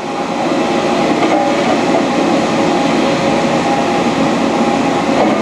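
A Dainichi Model H lathe runs while taking a light cut, giving a loud, steady, broadband mechanical roar that holds constant and continuous with no talk.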